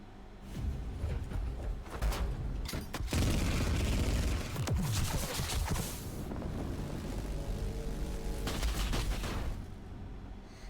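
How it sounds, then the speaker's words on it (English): Explosive rocket-propelled bullets fired in a game-style clip, heard as loud bursts of gunfire and booms with a steady rushing, windy roar throughout, no talk over it. "These are explosive bullets."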